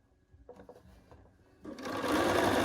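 A few soft handling taps give way to a sewing machine starting up and running steadily, its motor whir loud and close as it stitches quilt seams.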